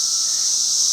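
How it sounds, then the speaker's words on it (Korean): A steady, shrill buzzing drone of a cicada, loud and unbroken throughout. "매미의 소리를 파도처럼 이제"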